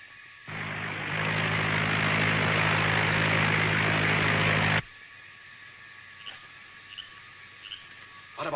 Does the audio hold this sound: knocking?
no